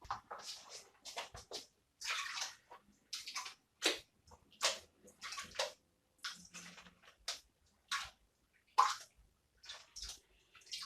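Galena being panned in water in a gold pan, with splashing and sloshing bursts in uneven swirls, fairly quiet and close, no voices heard.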